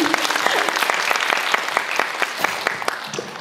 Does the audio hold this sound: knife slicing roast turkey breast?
no